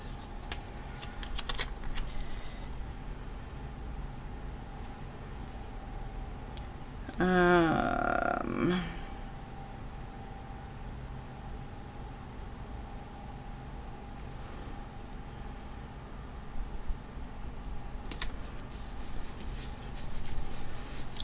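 A clear sticker pressed and rubbed onto a paper planner page, a short burst of scratchy rubbing and crinkling about a third of the way in, with faint handling noises around it in a quiet room.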